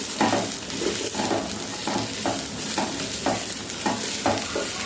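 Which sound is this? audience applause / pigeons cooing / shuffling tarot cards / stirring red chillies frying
stirring red chillies frying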